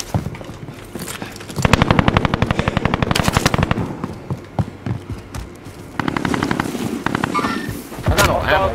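Video game gunfire from a first-person shooter comes in bursts of rapid automatic shots, loud and close, separated by short pauses, while a player talks over the action.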